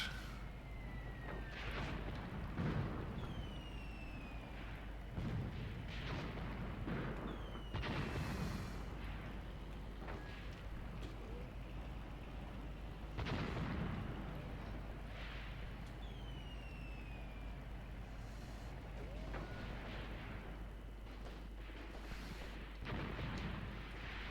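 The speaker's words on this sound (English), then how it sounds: "Apparently our Maxim guns are opening up." Maxim machine guns firing in the World War II tactics game Graviteam Tactics, set at the Second Battle of Kharkov, heard as repeated distant thuds and bursts over a constant low rumble, with faint whistling tones in between.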